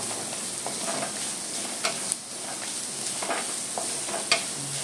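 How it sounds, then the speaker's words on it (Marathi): Onion, garlic and chili fry in a pan with a steady hiss and sizzle, broken by occasional stirring scrapes and clicks close by. "चांगला आपला कांदा खरपूस भाजून घेऊया।"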